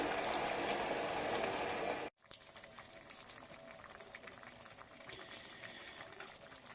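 Pine cone jam bubbles in a pot on the stove, a soft, steady simmering hiss with faint popping bubbles; a brief dropout splits the quiet, continuous boil.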